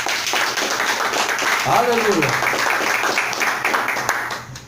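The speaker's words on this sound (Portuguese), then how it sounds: "Pode louvar a Deus com as palmas." A church congregation claps steadily in praise, a dense wash of hands filling the room while a voice shouts out over the clapping partway through.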